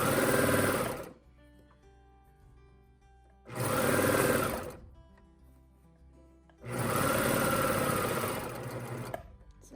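Sewing machine stitching the cuff of a cottage romper hoodie, running in three steady bursts with brief quiet pauses between them, close and fairly loud.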